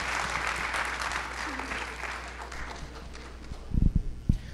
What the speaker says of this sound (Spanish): Demos un gran aplauso